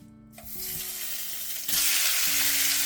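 Pork drops into hot olive oil in a pan and sizzles loudly, the frying hiss jumping up sharply partway through and continuing steadily.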